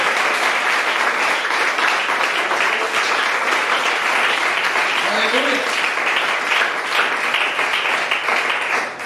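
Church congregation applauding during a Spanish-language sermon, a sustained loud wash of many hands clapping for several seconds with voices and cheers mixed in.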